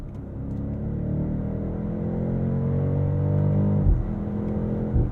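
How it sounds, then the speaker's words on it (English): A BMW X7 M60i's V8 in Sport Plus mode pulls hard through the gears, a deep rising engine drone from inside the cabin with a brief dip at an upshift before the tone climbs again. "And the sound from that V8 when we went into Sport Plus got real good"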